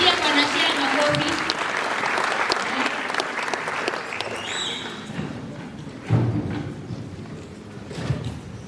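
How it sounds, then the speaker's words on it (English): An audience claps for a presenter being introduced at a national student economics debate in Maseno: dense, steady applause that thins toward the end, with a few louder thumps and voices mixed in. "let us clap for him"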